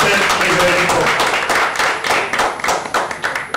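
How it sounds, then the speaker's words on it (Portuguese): A studio audience welcomes the guest Imhotep onto a talk show with sustained, loud applause. Rapid overlapping claps fill the whole stretch, with voices faintly mixed in. "Um aplauso para Imhotep, por favor, senhoras e senhores"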